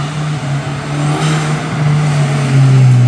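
Audi fitted with an ECS intake revving hard, heard from outside the car: a loud, steady engine drone that swells and rises in pitch toward the end, with no talking.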